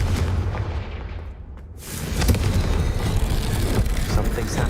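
A fiery Confringo spell blast in Hogwarts Legacy detonates with a swelling roar after a short whoosh, then booms on loudly with a dense rumbling tail.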